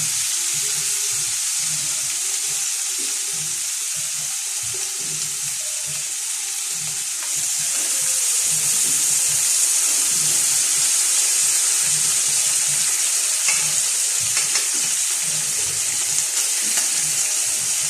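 Pork cubes frying in a pan with garlic, pepper and bay leaf, a dense continuous sizzle and hiss close by, steady and loud for the whole stretch with light stirring underneath.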